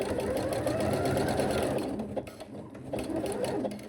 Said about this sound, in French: Et on va venir coudre ici, tout le tour, au point zigzag.